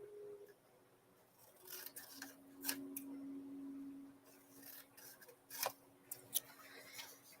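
Scissors cutting by hand: a few faint, sharp snips scattered through a quiet room, with a low steady hum in the background.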